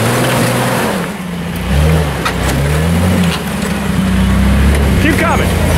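An off-road vehicle's engine revs and surges as it drives onto a rock at an off-road event, a loud low rumble swelling and easing, with people talking and calling out over it.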